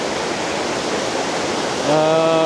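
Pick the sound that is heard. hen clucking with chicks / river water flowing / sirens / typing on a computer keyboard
river water flowing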